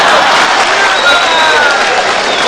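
Audience applause at a speech by Zarganar, loud and sustained clapping from a large crowd filling the whole stretch without pause.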